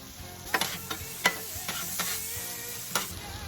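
Onions, butter and black garlic frying on a Blackstone griddle, a steady soft sizzle broken by several sharp scraping clicks of a spatula stirring, close and without talk.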